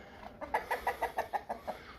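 Large breeding roosters at a farm give a quick run of about eight rhythmic clucks, fairly faint and at moderate distance, with no speech.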